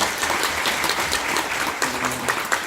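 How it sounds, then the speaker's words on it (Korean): Steady applause from an audience at a public testimony gathering, continuous clapping at moderate loudness with scattered sharper claps throughout. "박수 한번 주십시오"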